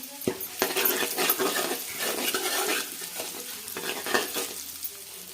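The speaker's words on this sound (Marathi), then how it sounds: "त्यामध्ये आता मिक्सरमधला मसाला टाकून घ्यायचा, तो पण त्याला व्यवस्थित परतून घ्यायचा" Ground spice paste from the mixer sautéing in hot oil, with quick scraping stirs of a spoon against the pan over an ongoing sizzle, close and busy, with no talk.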